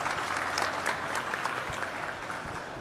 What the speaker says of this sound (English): let's give a huge round of applause to Nigel.